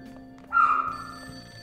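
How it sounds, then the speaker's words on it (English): Telephone ringing inside the video game Persona 5 Royal, a short burst of electronic ring that starts abruptly and fades into a sustained tone, moderately loud over a quiet game background. "That ringing sound isn't coming from my cell phone."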